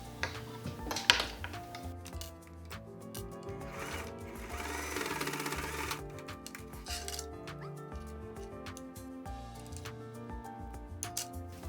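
A sewing machine runs a simple straight stitch across a fabric face mask in steady, close mechanical whirring bursts, loudest in a sustained run midway, with small clicks and handling noises around it.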